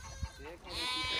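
Goats on a farm in Saudi Arabia bleat nearby, one sharp call followed by longer, wavering bleats, with a person talking over the animals.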